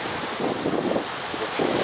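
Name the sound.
sea waves on a sandy beach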